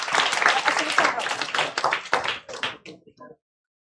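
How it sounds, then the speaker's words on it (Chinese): An audience at a Father's Day joint church service claps in an uneven burst that thins into a few scattered claps before stopping into silence, with voices mixed in. "好，给他们掌声鼓励鼓励。"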